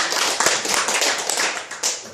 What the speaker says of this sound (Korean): 여러분 격려 박수 한번 부탁드리겠습니다.